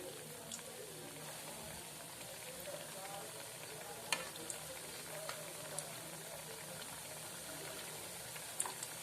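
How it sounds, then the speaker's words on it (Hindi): Balushahi frying in hot oil, a steady soft sizzle throughout with occasional small pops and clicks, quiet and continuous. "तो दूसरा हमारा ये पार्ट ये भी सेक लेते हैं।"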